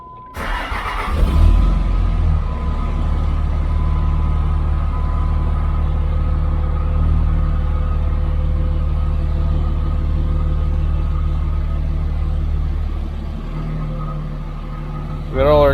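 Car driven after a fresh transmission install, shifter newly mounted, its engine humming steadily and changing pitch as it works through the gears, close and continuous, with some mechanical clunks at the start.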